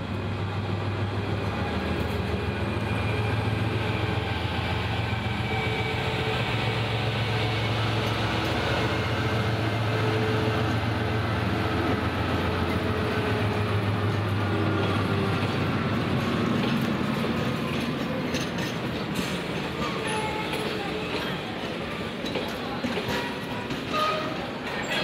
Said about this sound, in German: Der Zug wird kommen.